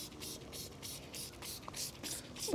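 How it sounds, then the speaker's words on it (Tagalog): A handheld sprayer applying herbicide to weeds growing among rocks, giving repeated bursts of hissing spray with short pauses between them, close by and moderately loud over faint background noise. "Spray natin itong mga damo na yan."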